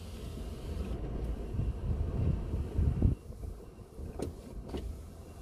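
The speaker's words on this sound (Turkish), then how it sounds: "Şöyle azıcık camı açayım." A car window is lowered a little on a hot, windy day in Ankara, giving a faint motor whir under the low rush of wind and cabin noise, which shifts as the window opens.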